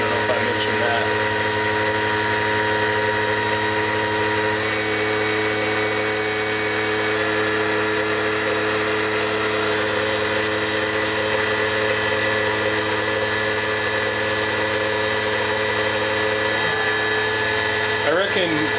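A Mikni 1610 L milling machine cuts copper at a 20-thousandths depth of cut, a loud, steady, close whine of the spindle and cutter that runs without pause.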